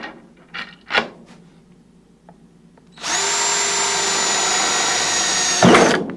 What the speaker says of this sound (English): I just drill a hole to the left of my PID controller